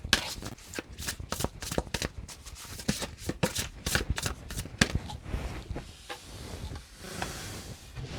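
A deck of tarot cards is shuffled for a reading. Rapid riffling clatter and crisp flicks come in repeated close bursts, loud and alone, and then ease into a softer sliding shuffle.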